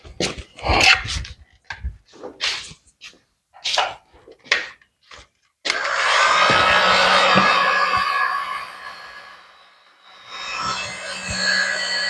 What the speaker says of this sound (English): I'm going to go get our heat gun. Throw a little heat on that.